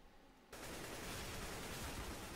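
In Counter-Strike: GO on Dust 2, an AK rifle breaks a quiet moment with loud, dense, rapid gunfire that runs steadily for about two seconds, with no voices.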